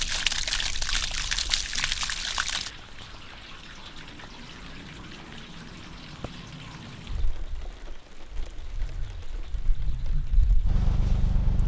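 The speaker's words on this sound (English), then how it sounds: "pouring it down" Heavy rain pours down in a loud, dense rush for a few seconds, then drops to a softer patter before swelling again into louder, lower-pitched spattering.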